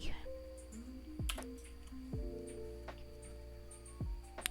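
Keys tapped on a computer keyboard while entering a Cisco switch enable-secret password, a sparse run of separate clicks over steady electronic hum, close and moderately loud, with no talking.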